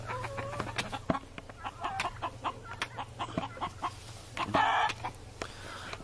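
Roosters and chickens cluck and crow around a homestead yard, with close, repeated short clucks and calls scattered throughout and one louder crow near the end, all fairly quiet.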